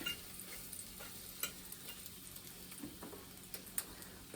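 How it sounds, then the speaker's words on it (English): An egg scrambles in a hot cast iron skillet with a soft, steady sizzle and light scraping taps of stirring, fairly quiet and close. "For all you people who say you can't scramble an egg in cast iron, look here."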